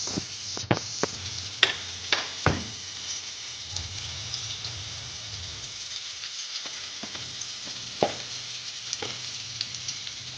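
Garlic fries in hot oil as the first step for a Bengali leafy greens dish, making a steady, soft sizzle punctuated by sharp ticks and scrapes of a spatula against the pan.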